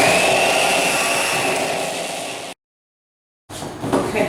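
An electric mixer beating oatmeal cookie dough after the second batch of flour goes in, a loud close whirring grind that cuts off abruptly, then briefly resumes after a second of silence.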